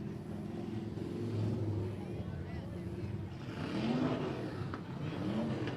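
Limited modified race cars circle a speedway during an eight-lap heat race, their engines droning and revving at a distance, with a track announcer's voice over the top.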